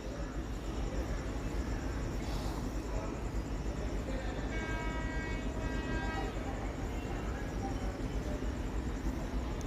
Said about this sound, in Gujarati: ડિપાર્ચર થઈ રહ્યો છે Gandhidham Palanpur express train number